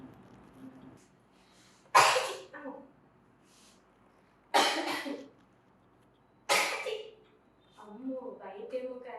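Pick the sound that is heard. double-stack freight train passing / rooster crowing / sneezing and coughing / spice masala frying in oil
sneezing and coughing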